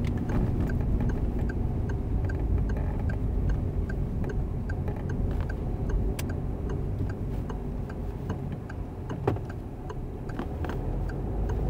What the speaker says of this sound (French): On aurait juste pu mettre le clignotant pour partir